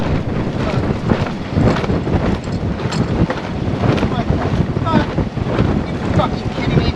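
Wind buffets the microphone aboard a sailboat out on the water, a loud, constant roar with gusty surges and splashing undertones lasting throughout.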